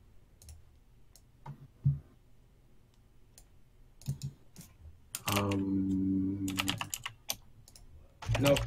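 Typing on a computer keyboard during an online drawing-and-guessing game: scattered clicks and short bursts of keystrokes, with a voice speaking briefly in the middle.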